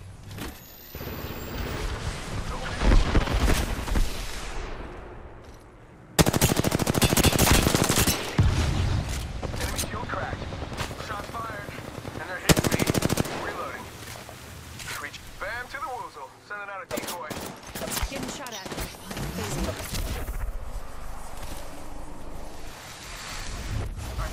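Apex Legends gunfire comes in loud, sharp bursts of rapid shots separated by quieter stretches, with a voice talking over much of the action.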